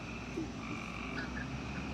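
Dense chorus of frogs croaking continuously at a distance in Prospect Park, New York City, a soft steady wash of calls with crickets and no voices.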